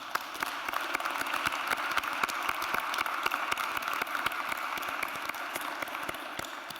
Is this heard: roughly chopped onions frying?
no